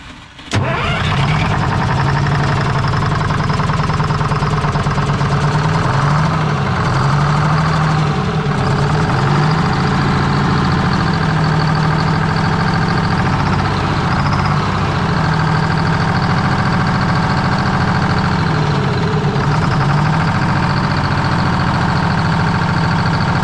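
A cabover truck engine cranks and catches at the start, then idles loudly and steadily with a low, rumbling tone and slight rises and dips in speed throughout, with no voices.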